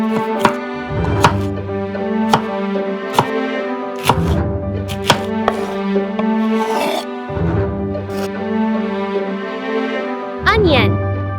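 Garlic being chopped on a tiny cutting board for miniature cooking, sharp knife taps landing in an uneven run over a steady background hum, with music playing throughout.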